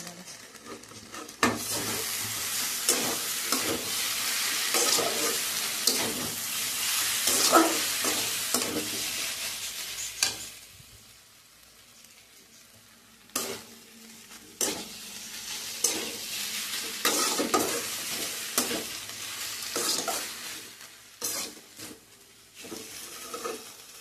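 Green chilli paste stirred in a frying pan for a taro stolon and prawn dish: repeated close scraping strokes of a spoon against the pan over a continuous sizzle, with a brief quieter pause midway and no voices.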